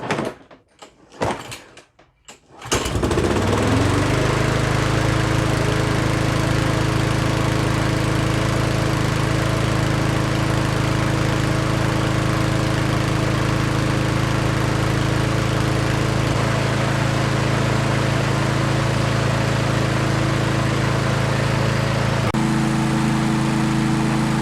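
A Cub Cadet four-stroke walk-behind lawn mower, overfilled with two-stroke oil and leaking oil, starts after a few seconds of clatter. It then runs at a loud, steady drone close by, with a slight shift near the end and no talking.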